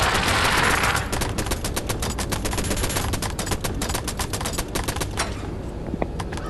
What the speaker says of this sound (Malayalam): വെടി വെക്കണോ?